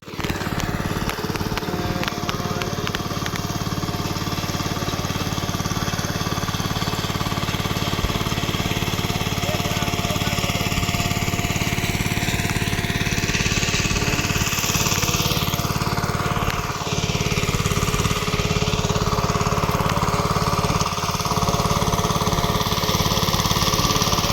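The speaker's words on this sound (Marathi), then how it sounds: "बघा आवाज येतो स्लो ट्रॅक्टरचा" A slow tractor engine runs continuously in paddy fields during rice planting, a loud, steady mechanical drone with a rough chugging texture that holds throughout, with no voices over it.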